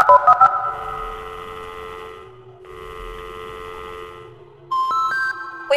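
Touch-tone speed-dial beeps sound on a telephone in the Indigo's Park game: a few quick dial tones, then long sustained electronic tones with brief gaps, ending in another series of rising beeps.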